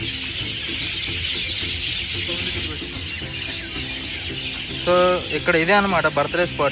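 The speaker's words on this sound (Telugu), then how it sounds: "చూసారు కదా పిచ్చుకల సౌండ్స్." Sparrows chirp among the trees of a green office campus, a dense wash of high twittering that runs on steadily, with someone talking over it near the end.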